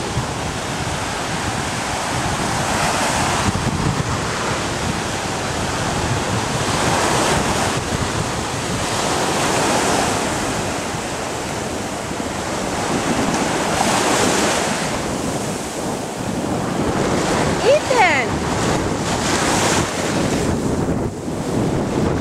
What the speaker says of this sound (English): Is this the ocean?